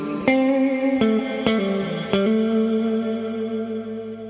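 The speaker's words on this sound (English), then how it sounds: "you can also run this engine as just a plate reverb," Encounter delay and reverb pedal running as plate reverb only: four separate guitar notes struck in turn, each followed by a smooth reverb tail, the last one sustaining and gradually decaying.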